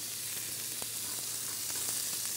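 Wild boar meat sears in hot sesame oil in a pan, giving a steady, dense sizzle with faint crackles and pops, close up and without talk.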